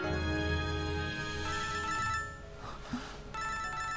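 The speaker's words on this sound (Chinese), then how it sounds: "这么晚了谁还打电话啊？" A telephone rings late at night indoors, its bright electronic ringtone sounding loud and close in steady, repeating tonal patterns, with a brief pause before the ring resumes.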